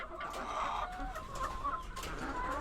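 Young chickens cluck steadily and close by inside a small backyard coop, with overlapping calls throughout.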